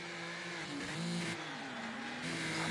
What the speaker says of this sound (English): Slams back down on the brakes.